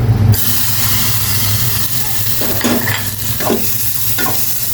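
Raisins, cashews and pistachios frying in a spoonful of butter oil for sago payesh, a loud close sizzle with stirring scrapes across the whole stretch.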